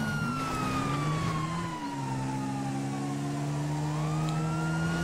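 Ambulance siren in GTA 5, a continuous wailing tone sliding slowly in pitch, loud and close, over a steady low engine rumble, with no talking over it.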